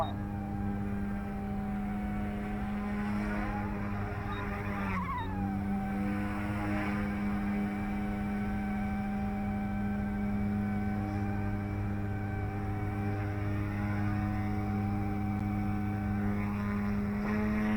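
A Yuxiang F150 or Eachine E120s small RC helicopter hums steadily with a droning rotor and motor whine at idle, close and continuous, with a brief pitch dip partway.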